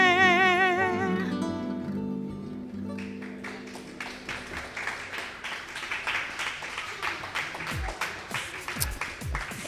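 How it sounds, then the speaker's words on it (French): Audience applause at a live radio concert broadcast from a brewery, rising as music fades: a final sustained chord gives way to a dense, steady patter of many hands clapping, moderately near. "Des applaudissements."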